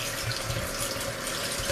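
Smoked ham hocks are rinsed under a running faucet, water pouring steadily into a sink as a continuous close hiss and splash with no talk.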